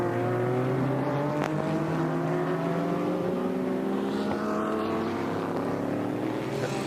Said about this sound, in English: Heard a crackle. That could have been traction control TC.